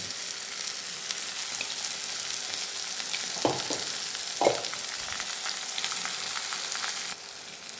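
Chicken masala with onion, ginger and garlic frying in a pan, a bright, dense sizzle heard up close and steady, broken by a couple of brief scraping stirs of the spatula midway.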